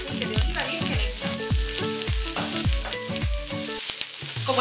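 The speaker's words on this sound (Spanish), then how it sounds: "vamos a poner en la plancha el pulpo, que le hemos puesto una gotita de aceite de oliva virgen extra" Cooked octopus with a drop of extra virgin olive oil sizzling loudly on a hot griddle, a steady close frying hiss with recurring low thumps of music underneath.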